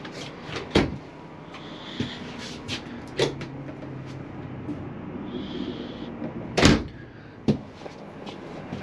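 Closet doors in an Odyssey RV bang and thud open and shut several times, sharp knocks spaced irregularly, with soft sliding and rattling in between.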